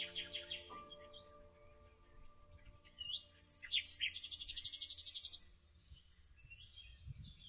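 Galah, the rose-breasted cockatoo, gives shrill screeching calls and then a fast run of repeated harsh notes, loud and close, over soft relaxing music with background birdsong.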